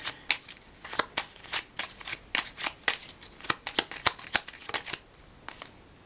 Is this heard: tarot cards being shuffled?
yes